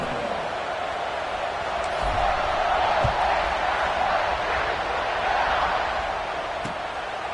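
A football stadium crowd roars steadily just before kickoff, a broad, continuous wash of cheering that swells slightly midway and holds at a loud, distant level throughout.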